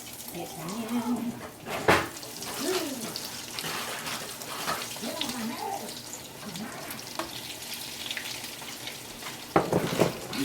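Eggplant slices frying in a pan, a soft steady sizzle with a few sharp clatters and bumps, heard under a person talking at intervals.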